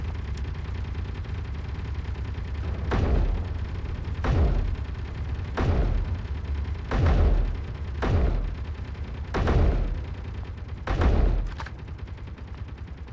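Turret gunfire in the Space Engineers video game: a run of about six heavy, booming shots spaced a second or two apart, punching out over a steady background hum.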